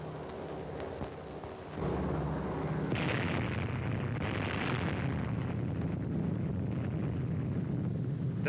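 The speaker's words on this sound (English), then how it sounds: "The fourth atomic bomb has been successfully detonated." An atomic bomb detonation at the Operation Crossroads nuclear test, a sudden heavy blast that swells into a long, dense rumbling roar rolling on without a break.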